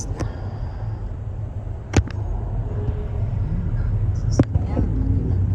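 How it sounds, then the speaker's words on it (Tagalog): Steady road traffic near Barstow on the way toward Las Vegas, a continuous low engine rumble with a couple of vehicles passing close by, under occasional talk. "Traffic na kasi"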